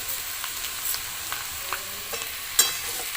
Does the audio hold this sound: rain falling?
no